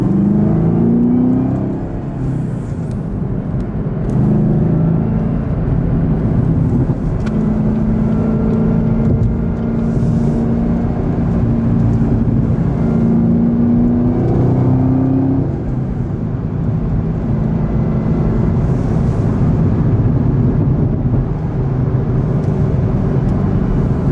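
A 2022 Chevrolet Camaro ZL1 1LE in Rapid Blue drives steadily with a continuous engine drone heard from inside, rising and falling gently in pitch as it accelerates and shifts, with no talking.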